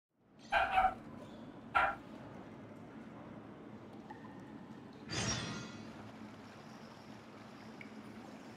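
Dogs barking in the game Genshin Impact, two short loud barks early on over a steady watery ambient bed, followed by a softer rushing swell.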